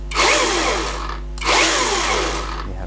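A 12-inch YOUXAIN battery-powered chainsaw whirs loudly in two short bursts, each spinning up and winding down, close and alone.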